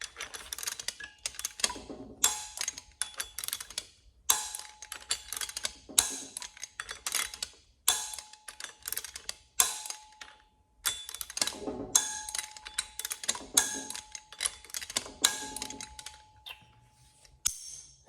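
A torque wrench tightens flywheel bolts on a third-generation Honda Prelude engine. Soft, rapid ratcheting clicks come in repeated short runs with brief pauses between them, and faint clicks from the wrench's torque setting mark the end of some runs.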